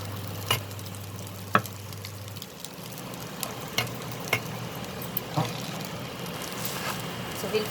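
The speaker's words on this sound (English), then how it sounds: "So we'll fry the noodles nicely now with these vegetables" Potato noodles frying with vegetables over a medium-low flame, a continuous close sizzle broken by sharp ticks and scrapes as the spatula stirs.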